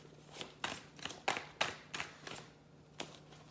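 A large deck of tarot cards shuffled by hand gives a quiet series of crisp, snappy card clicks and flutters in uneven bursts, with no talking.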